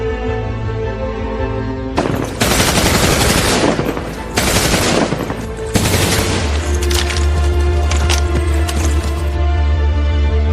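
Staged gunfire sound effects boom through a school drama performance, with loud bursts of rapid machine-gun fire in several volleys separated by short gaps, followed by a lower rumbling tail.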